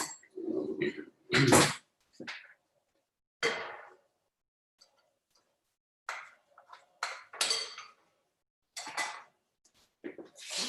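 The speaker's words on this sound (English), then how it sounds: "I'm going to just put some dollops of chocolate on there" Dollops of chocolate spooned onto greaseproof parchment paper: a series of short clinks and scrapes from the spoon, loud and close, in separate bursts with quiet gaps between them.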